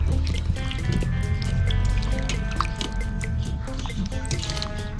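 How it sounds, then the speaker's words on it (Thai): Fish washed by hand in plain water after a vinegar rinse, with steady sloshing, dripping and trickling throughout, close and fairly loud over a constant tonal background. "ตามด้วยน้ำเปล่าครับผม ครับผมแล้วก็ล้างเลยครับ"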